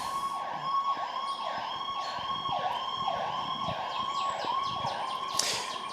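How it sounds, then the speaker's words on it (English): An emergency vehicle siren wails in a steady repeating rise-and-fall pattern, moderately distant, with faint traffic rumble underneath and no talking. "Let me let this siren go by."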